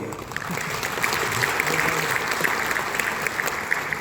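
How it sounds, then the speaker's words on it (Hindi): A hall audience claps in honour of tribal society during a lecture, a continuous, dense wash of many hands at even loudness throughout, with no voices over it. "जनजाति समाज के लिए ताली है।"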